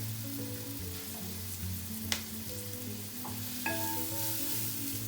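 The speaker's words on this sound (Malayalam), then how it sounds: "നമ്മളിത് നല്ലോണം വഴറ്റണം." Onions being sautéed in a pan for a raw mango and prawn curry; a soft, steady sizzle with a couple of brief utensil clinks, under a continuous low hum, with no talking.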